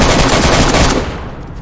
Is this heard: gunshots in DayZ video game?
yes